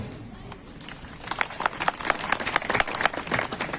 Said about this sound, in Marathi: हात दिले आहे टाळी वाजवायला